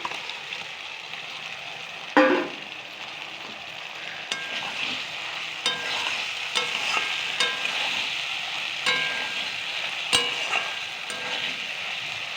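Eggplant pieces frying in hot oil alongside loita fish, a steady sizzle broken by a burst as the pieces hit the pan, then repeated scrapes and clinks of stirring throughout.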